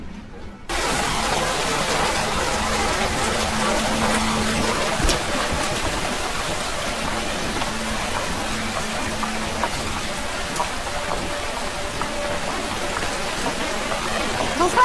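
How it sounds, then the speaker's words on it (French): Heavy rain pours steadily at an evening front door, a dense continuous wash of drops that starts abruptly after a brief quiet moment and holds loud and even throughout. "Oui, waouh, quelle pluie."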